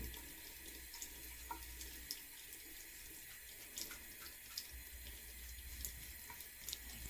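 Water runs steadily from a tap while makeup brushes are washed, making a soft, even rush with faint drips and no talking.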